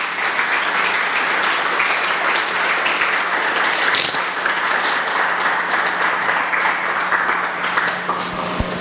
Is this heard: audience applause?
yes